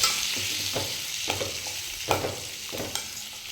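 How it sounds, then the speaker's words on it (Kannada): Finely chopped tomatoes fry in a pan with cashews for butter chicken masala, giving a soft continuous sizzle broken by several sharp stirring scrapes and taps, close but fairly quiet, with no speech. "ಟೊಮೊಟೊ ಹಾಕ್ತಾಯಿದ್ದೀನಿ."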